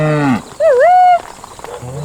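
Farm cattle moo loudly and close by: one low call fades out, a second rises and dips in pitch, and a third begins at the end.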